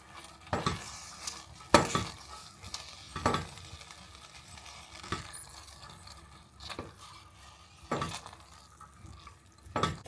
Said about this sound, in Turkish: Bir tur karıştıralım.